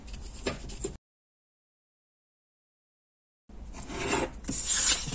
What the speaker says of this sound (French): je prends ma règle, je vais découper ce qui est en trop.